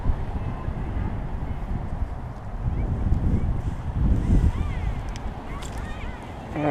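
A gust of wind while power kiting blows in a steady broad rush and buffeting against the microphone, swelling slightly toward the middle and end, with no talking.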